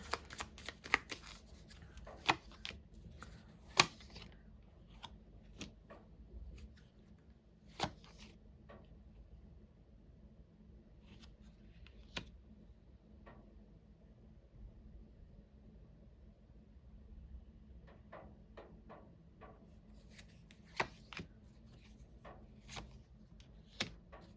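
Playing cards being shuffled in bursts of quick riffling clicks, separated by quiet stretches, fairly faint in a quiet room.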